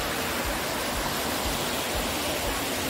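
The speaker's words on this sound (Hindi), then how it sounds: "ये देखिए बहुत प्यारा सा वाटरफॉल, बाहुली वाटरफॉल" Bahuli waterfall, in front of the Bahuli dam reservoir, gives a steady, dense roar of falling water, close and continuous, with faint muffled sounds beneath.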